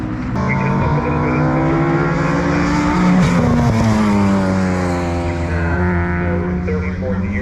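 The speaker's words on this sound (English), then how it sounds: "That Mini is very quick." A Mini race car at an Anglesey time attack event drives loudly and close, its engine revving and shifting pitch through gear changes, with a brief tyre squeal midway.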